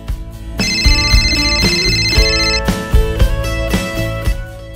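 A mobile phone rings with a bright electronic ringtone melody, loud and close, playing a repeating pattern of tones with no talk over it.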